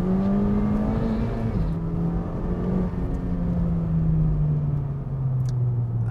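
A Honda Civic Type R FK2 engine drones steadily at low revs, its pitch sliding gently down and up, a continuous loud hum with no talking.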